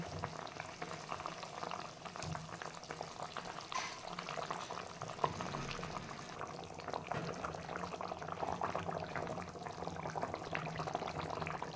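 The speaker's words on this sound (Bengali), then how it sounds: "এবার বড়াগুলো দিয়ে দেব।" Fried lentil dumplings dropped into a pot of boiling curry, with a steady bubbling, simmering wash throughout and no talk.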